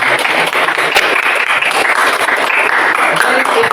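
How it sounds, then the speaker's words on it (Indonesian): Junior high school students in a classroom applaud together, a loud, dense, continuous clapping that fills the short stretch, with some voices faintly mixed in. "Tepuk tangan untuk kita semuanya."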